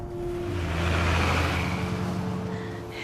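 Steady city traffic in Thunder Bay, a continuous broad roar of cars with an engine hum swelling toward the middle and easing off, fairly close and without voices.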